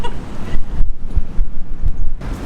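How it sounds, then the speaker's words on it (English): Strong, gusting wind of a severe thunderstorm roars in broad, rushing waves with low buffeting thumps against the microphone, easing briefly and surging again, loud and close. "This is a severe thunderstorm warning, and we're gonna see some pretty serious wind."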